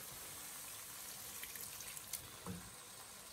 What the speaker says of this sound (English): I want to add a little bit more water, just a little bit